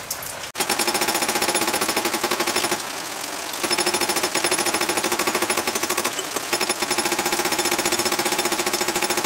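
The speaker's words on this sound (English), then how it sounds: "we're going to go with the ball peen hammer." Rapid, continuous metallic hammering from a ball peen hammer striking metal for a cigar box guitar, loud and close, with a brief pause in the middle before the fast strikes resume.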